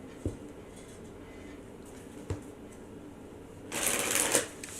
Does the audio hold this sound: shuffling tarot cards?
yes